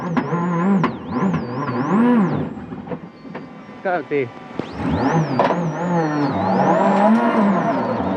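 A Mitsubishi rally car at WRC Greece, 2003, struggling with missing gears, revs up and down in sharp, loud surges while a commentator talks over the engine throughout.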